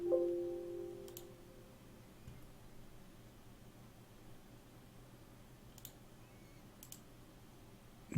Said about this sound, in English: We click apply. And let's give this a run.